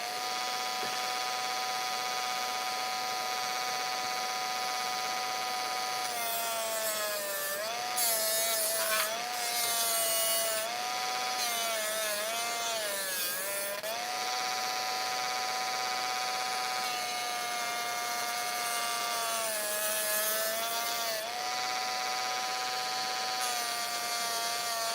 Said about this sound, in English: to make this look like it's machine made, I have to keep the same angle all the way around with all of it, so I don't move the Dremel hand.